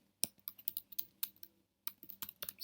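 Java code typed on a computer keyboard: quiet, distinct key taps in an uneven rhythm, with a short gap partway through and no talking.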